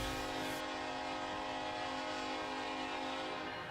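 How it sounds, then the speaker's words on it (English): A train passes at a railroad crossing, its horn blaring loud and sustained over a continuous rumble of rolling wheels and cars, heard close without any voices. "The sounds of the train"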